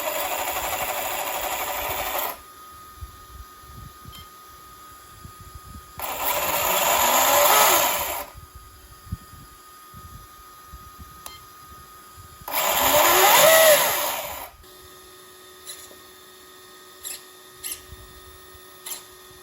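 Motor of an Rlaarlo XTS-P12 micro rally RC car revved in three separate bursts, each a few seconds long with a rising electric whir, separated by near-silence and a few small clicks.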